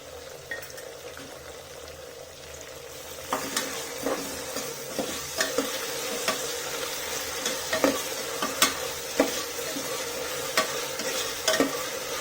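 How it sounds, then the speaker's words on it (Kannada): Ginger garlic paste and onions fry with ghee in a pan for egg biryani, a steady sizzle swelling as the paste goes in, then repeated close spoon scrapes and clinks against the pan. "ಇವಾಗ ನಾನು ಇದಕ್ಕೆ ಜಿಂಜರ್ ಗಾರ್ಲಿಕ್ ಪೇಸ್ಟ್ ಹಾಕೋತಿದ್ದೀನಿ."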